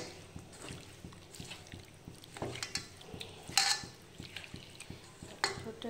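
Food being kneaded by hand in a bowl with ground paste, oil and salt, giving soft squelching, wet mixing and light clatter against the bowl in an uneven rhythm, close and fairly quiet, with no talking.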